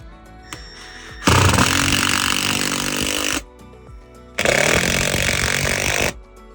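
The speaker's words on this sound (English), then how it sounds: "using the supplied hardware pack, we're gonna install a screw in each corner into the floor" A power driver runs in two long, loud bursts, each a couple of seconds, sinking screws from a supplied hardware pack into the corners of an RV floor under flip tread steps, with quiet handling sounds between bursts.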